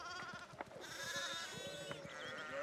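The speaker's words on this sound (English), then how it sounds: "There's a lot of sheep here." Sheep bleat repeatedly in the video game Pentiment, several overlapping calls at moderate distance over a soft ambient bed with faint rhythmic pattering.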